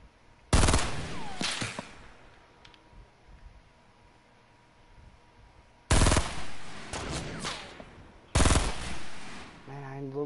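Three loud bursts of automatic gunfire from the video game Fortnite, each a sharp, close volley lasting about a second or two, separated by quieter stretches of low game ambience.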